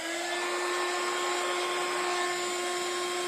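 An embossing heat tool blows steadily over a greeting card to raise a frosty embossed pattern, a constant close whooshing hum with a fixed high whine running the whole time.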